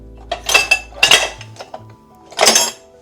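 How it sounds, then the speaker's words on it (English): A spoon mixes two scoops of protein powder in a container, making several bright metallic clinks and scraping strokes in short bursts, close by and alone. "So I'm gonna mix it. Probably with a spoon"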